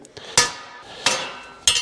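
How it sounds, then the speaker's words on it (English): Three sharp metallic hammer strikes on sheet metal backed by a dolly during panel repair of a rotted part, spaced roughly evenly with ringing decay, close and loud over a quiet background. "Just a bit of hammer and dolly work."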